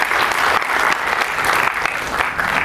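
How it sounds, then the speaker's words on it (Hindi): An audience at a Hindi comic poetry gathering breaks into applause, a dense and continuous burst of clapping from many hands, close and loud. "आपने हिंदी माता का कवि सम्मेलन करवाया, तालियां बजाएं आप अपने आप के लिए।"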